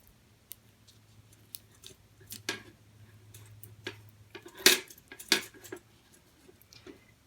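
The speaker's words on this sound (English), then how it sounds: "And cut the extra ribbon off" Scissors snip off excess ribbon on a planet craft project, giving a few sharp, close metallic clicks and snips scattered over a quiet background with a faint low hum.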